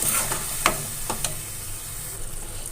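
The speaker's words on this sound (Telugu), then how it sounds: "మనకి నూనె అనేది పైకి వచ్చేంత వరకు వేయించుకోవాలి." Dried prawns frying in oil in a pan for a dried prawn and cucumber curry, a steady close hiss with a few sharp spoon scrapes, no voices.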